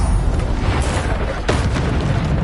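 A Bombarda spell detonates in Hogwarts Legacy as a loud, booming blast over continuous heavy combat noise, with a second sharp burst partway through.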